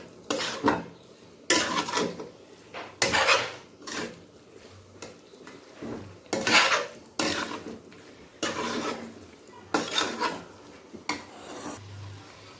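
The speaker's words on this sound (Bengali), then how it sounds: "এটাকে আমি ভালো করে কষে নেব মশলাগুলোর সাথে।" Banana flower with fried potato and spices is stir-fried in a pan. Loud metal spatula scrapes and clatters come in bursts every one to two seconds, with quieter frying between them, all close by.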